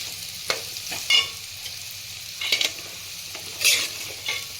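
Beetroot curry frying in a pan gives soft, intermittent scraping stirs and light sizzle bursts, a few spaced strokes over a quiet background with no talking.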